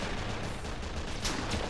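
Heavy mortar fire in a video game booms through dense battle noise, a continuous roar of explosions and gunfire with one sharper blast standing out near the end.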